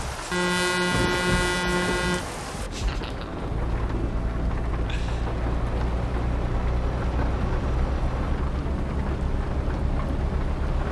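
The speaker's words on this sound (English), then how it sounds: "how many air horns are hit into your truck? I have 2. Would you like to hear them?" A loud two-tone truck air horn blasts for about two seconds in Euro Truck Simulator 2, then a low engine drone rumbles steadily over road noise.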